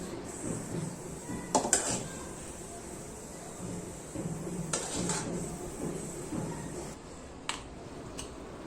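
Sweet modak filling of grated coconut, jaggery, cardamom and nutmeg is scraped from a pan into a bowl in a home kitchen, giving a few near metallic clinks and soft scraping sounds.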